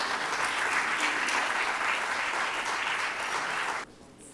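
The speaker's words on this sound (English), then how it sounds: "Can we please have a round of applause?" Steady, dense applause from an audience at a scientific lecture course prize ceremony, a sustained wash of clapping for nearly four seconds that stops abruptly, leaving faint room tone.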